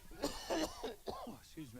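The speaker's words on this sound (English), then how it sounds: "Just going to have a bit of a coughing fit" Several short, rough coughs in quick succession, close and fairly loud, with a throaty edge between them.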